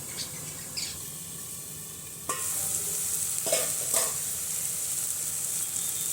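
Potol bata cooking in a pan on low heat, with a soft continuous sizzle underneath and a few scraping strokes as it is stirred slowly, no voices.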